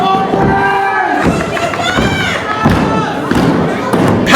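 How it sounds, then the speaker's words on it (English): Wrestler pounding the mat at a wrestling event, a series of loud heavy thuds landing at irregular intervals over crowd noise, with a commentator talking throughout. "Pounding that mat"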